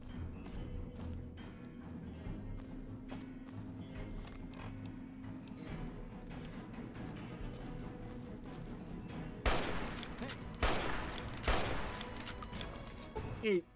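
Video game gunfire from Fallout: New Vegas rattles in rapid, dense bursts over a low rumbling background, growing louder and harsher toward the end.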